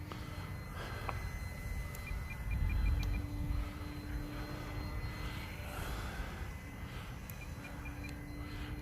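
RC plane called the Bloody Baron in flight, a continuous buzzing motor drone that swells and fades slightly as it passes, moderately loud over outdoor background noise.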